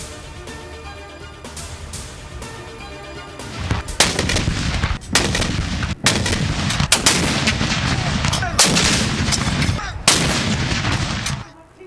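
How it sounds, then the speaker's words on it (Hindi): Cannon salute for Pakistan's 75th Independence Day in Islamabad: a rapid series of loud booming artillery blasts, one after another, with heavy echoing rumble throughout, outdoors and close. "इस्लामाबाद में 31 और सूबाई दारुल हुकूमतों में 21 तोपों की सलामी से दिन का आगाज"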